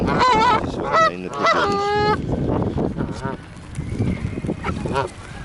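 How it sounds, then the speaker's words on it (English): Large birds at a feeding spot crowded with pigeons give loud, close, goose-like honking calls in quick bursts, fading into softer scattered calls. "Look how many birds I've got around me."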